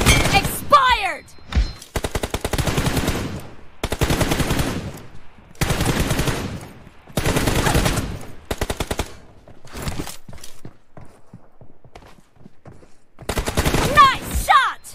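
Rapid automatic gunfire in a team deathmatch shooter video game, long loud bursts separated by short pauses, with a brief game voice line near the start and end.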